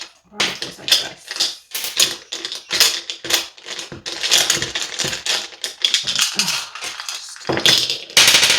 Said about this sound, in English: There goes all the dice.